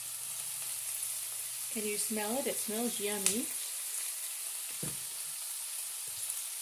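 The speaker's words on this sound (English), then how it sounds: "You can hear it sizzling." Ham, green beans and onions sizzle in a pan at a steady, faint hiss throughout, while someone speaks briefly over the cooking noise partway through.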